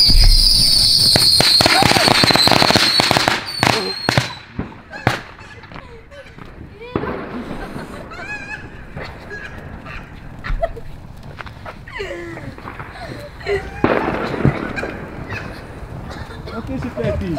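A firecracker board goes off on New Year's Eve with a dense, loud rattle of cracking bangs that fades into scattered distant pops and booms, while people talk throughout.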